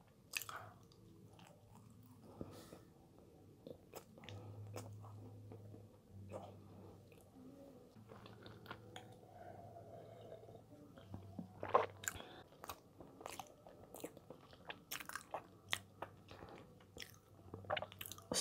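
Close, quiet mukbang chewing of a bakery brownie, soft wet squishes and small crunchy bites in an irregular rhythm, with occasional faint voice between mouthfuls.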